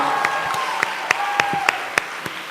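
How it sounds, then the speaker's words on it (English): Audience clapping at a school Model United Nations closing ceremony, a thin, steady patter with a few sharper individual claps standing out and a faint tone running underneath. "Can we please have a huge round of applause for them?"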